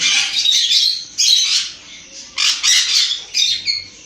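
A sun conure parrot gives a series of about five harsh, shrill squawks in quick bursts, loud and close, with short gaps between them.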